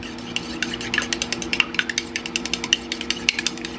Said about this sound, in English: And then you want to just mix it all around.